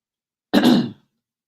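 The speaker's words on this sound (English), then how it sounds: "Excuse me while I clear my throat." One short, close throat clearing, a rough guttural rasp lasting about half a second in otherwise silence.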